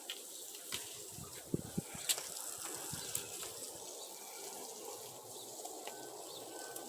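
Water from a hose or watering can hisses softly and steadily as potted plants are watered outdoors, with faint birdsong and occasional small knocks in the background.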